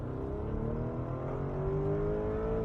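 A 2024 Porsche Cayenne S V8 in Sport Plus accelerating hard from inside the cabin, a steady deep engine drone whose pitch climbs smoothly as revs build, with no pauses.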